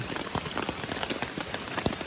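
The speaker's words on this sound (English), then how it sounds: "I'm pretty sure it's rain." Rain patters steadily on a tent during a tropical storm at Jones Gap, a dense irregular pattering of drops close by and fairly soft.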